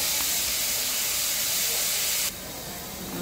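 Koi (climbing perch) frying lightly in hot oil before going into lentil dal gives a loud, steady close-up hiss that drops abruptly to a quieter sizzle partway through.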